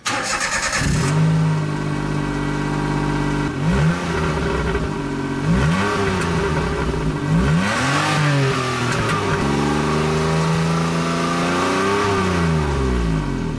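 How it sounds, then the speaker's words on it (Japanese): A car engine revs repeatedly through a factory exhaust, rising and falling in several throttle blips over a steady idle rumble, close and loud. "一旦純正のマフラー音を聞いていきます"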